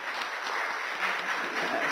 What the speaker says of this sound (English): can I also applaud for the previous group